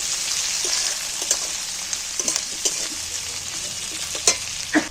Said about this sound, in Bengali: কাটা পেঁয়াজগুলো তেলের মধ্যে তুলে দিন এইবার একটু নাড়াচাড়া করে নেবেন